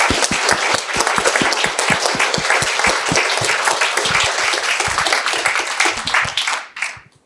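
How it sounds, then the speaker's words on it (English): Sustained, dense audience applause at the Falling Walls Aotearoa New Zealand awards event, loud and continuous, tapering off and fading away in the final second. "everybody here deserves a big round of applause for a great"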